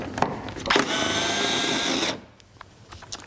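A power tool whirs for about a second and a half while removing the outer headlight mounting bolt on a Mercedes W210, then stops, followed by faint clicks and small handling noises.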